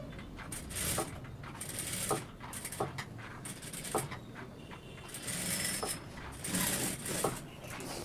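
A domestic sewing machine runs in repeated short bursts of mechanical clatter while stitching the neck of a chudidar, with brief pauses between runs.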